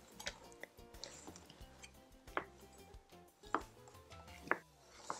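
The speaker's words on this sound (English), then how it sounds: "Next, I'm going to cut or tear our corn tortillas into bite-sized pieces" A knife cuts through a stack of corn tortillas on a board, giving quiet, sparse chopping taps spaced about a second apart, faint and close with no talking.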